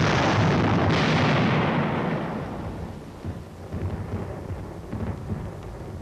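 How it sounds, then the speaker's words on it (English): Heavy wartime artillery surface and air bursts boom in a deep rolling roar that fades and rumbles on, loud and distant-sounding, with further low thuds following. "Surface and air bursts clear the way for the riflemen."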